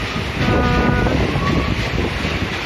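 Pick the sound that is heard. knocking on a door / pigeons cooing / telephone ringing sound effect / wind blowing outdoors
wind blowing outdoors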